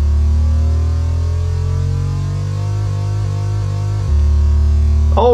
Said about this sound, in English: Oh, it's got a rev limiter!